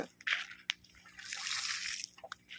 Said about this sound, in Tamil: இந்த கிளிஞ்சலில் தண்ணி போட்டு